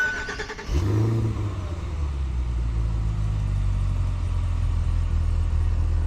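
Cadillac Escalade V driving at night, its engine starting up with a sharp surge, then settling into a steady, loud, deep rumble that holds as the big SUV cruises, with no voices.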